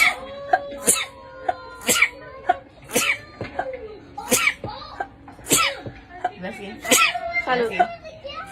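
Rapid string of sneezes, roughly a dozen quick, close bursts in a steady rhythm, mixed with voiced, squeaky sounds between them.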